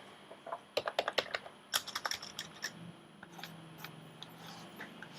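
Someone types on a computer keyboard, with quick bursts of crisp keystrokes and short pauses. The clicks are close and clear with no talking.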